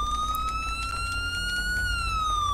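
Close, loud police siren from a patrol car in GTA V, holding a steady wailing tone that rises gently and dips at the end, over a constant low engine drone.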